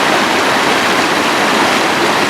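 A creek swollen after rain rushes over rocks, a steady, loud, unbroken roar of churning water that holds level throughout, with no voices.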